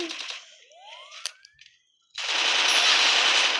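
Shooter video game gunfire with headshots: a burst of shots and a rising whine, a short pause, then sustained loud rapid automatic fire at the close.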